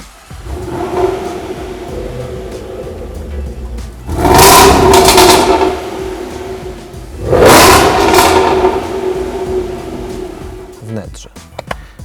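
A Jaguar SVR V8 engine idles with a steady rumble, then revs hard twice in loud surging bursts through the exhaust before settling back, ending with a few clicks.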